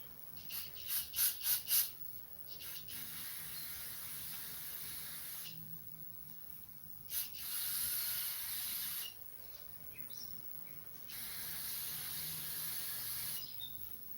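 Aerosol cleaner sprayed in long hissing bursts onto a lawn mower carburetor float bowl, three sustained sprays of several seconds each after a few short puffs at the start, close and fairly loud.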